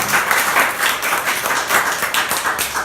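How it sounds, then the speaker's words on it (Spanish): A church congregation claps steadily, a dense burst of applause that holds its level for a few seconds. "Otro aplauso"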